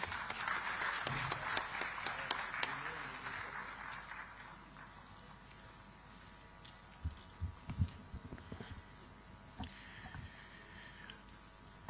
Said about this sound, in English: please welcome him with a huge round of applause